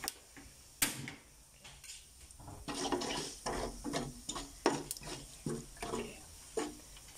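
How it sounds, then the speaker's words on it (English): Cardamom, fenugreek seed and cumin powder frying gently in hot oil in a pan, with soft irregular crackles and light stirring clicks, close and fairly quiet with no voices. "I'm going to let this fry up for a few minutes until all the flavor is released"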